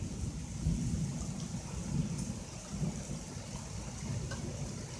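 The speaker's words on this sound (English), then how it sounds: "That's a crazy storm." A severe thunderstorm with steady rain falling and low rumbling thunder rolling underneath, a continuous wash of rain with repeated deep swells, no voices.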